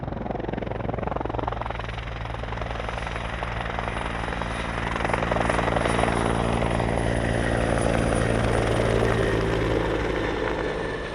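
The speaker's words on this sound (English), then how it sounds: "the helicopters that you saw are the CH-146 Griffon from 438 Squadron" CH-146 Griffon helicopter rotors thump steadily with a droning engine, loud and close, the whine building slightly as it passes overhead; no voices.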